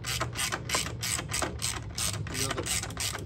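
A ratchet tightens a bolt up close, its pawl clicking in a quick, steady run of short strokes with slight pauses, fairly quiet and with no talk.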